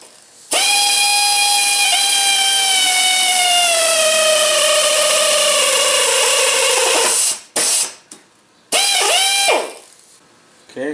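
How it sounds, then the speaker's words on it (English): A power drill whines loudly at a high steady pitch that slowly drops as it bites into a metal outer tie rod end, then stops and gives a few short bursts. "I had the correct drill bit and I'm ready to drill the final orifice."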